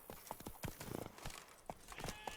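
Hooves of the horse Roach clop on the ground in The Witcher 3 video game, a quick, uneven run of fairly soft hoofbeats over a few seconds, with no speech over them.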